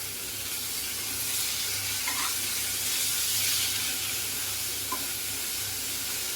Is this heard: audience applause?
no